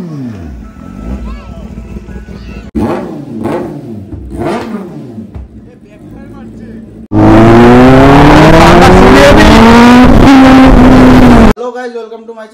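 A Kawasaki ZX10R superbike fitted with an aftermarket exhaust revs loudly, with sharp throttle blips up and down, then a long sustained roaring rev. Voices talk around the revs.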